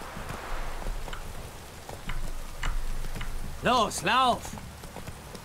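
Horse hooves clip-clop in The Witcher 3 during a ride, a steady patter under loud in-game dialogue with a shouting voice and music cues.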